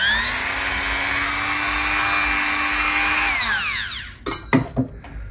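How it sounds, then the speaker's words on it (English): A Dremel rotary tool shaping a Frankenstrat-style guitar body whines loudly and steadily at high speed, then spins down, followed by a few clunks and handling noises. "My new tool here. This is that Dremel."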